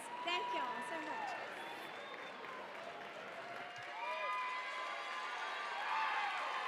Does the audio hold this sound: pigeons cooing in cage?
no